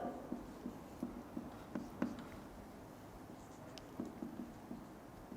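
Pen or marker writing out a math solution for a partial differentiation problem, heard as faint, repeated scratchy strokes in short bursts, close and quiet, with no talk.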